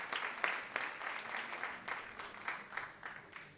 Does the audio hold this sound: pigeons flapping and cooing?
no